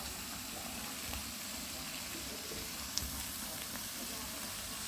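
Pork sizzles steadily on a very hot pan, a continuous crackling hiss with a single sharper pop near the middle.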